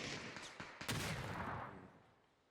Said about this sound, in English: The artillery barrage is just continuing to head in his direction.